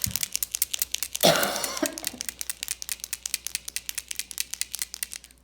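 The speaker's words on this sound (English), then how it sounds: "So I also need to get out a scrap piece of paper." Paper rustles and crinkles as a scrap sheet is pulled from a folder during a craft session, a loud crumple up front, then a long run of quick rhythmic ticking taps.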